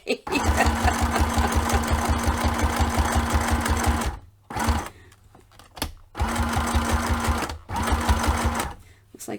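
Sewing machine stitching fabric tags at a craft table, with a loud, steady rapid needle chatter running in long bursts, stopping briefly between runs and then starting again.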